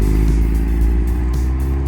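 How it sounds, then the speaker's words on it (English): A Honda Prelude SI's 2-liter dual overhead cam engine, rated at 135 horsepower, runs with a loud, steady, close-up drone that has a deep low rumble, and no one talks over it. "The SI trim came with a 2-liter now dual overhead cam engine that produced 135 horsepower and had a much more familiar Honda sound."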